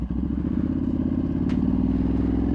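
A Ducati superbike with its fuel light on idles with a loud, steady low engine rumble, the exhaust crackling and popping throughout, with one sharp pop standing out near the middle.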